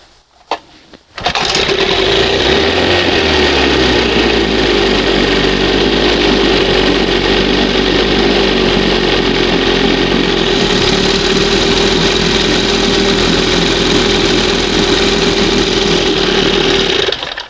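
A 1971 Johnson 20 HP outboard motor with new pistons and rings catches on a pull start after a brief pause, then runs on at a steady, loud, close idle with a constant buzzing drone.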